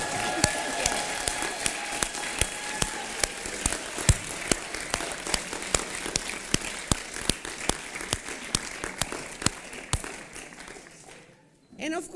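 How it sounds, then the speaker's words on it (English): Sustained audience applause at a debate final, honoring host families, with a steady wash of clapping and crisp individual claps audible throughout, fading near the end as a voice begins. "their parents really deserve a huge applause again"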